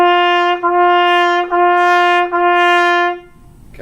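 A sustained legato tone with strong harmonics, scooped and swelled into at the front, repeated as several connected notes with slight dips between them before fading out.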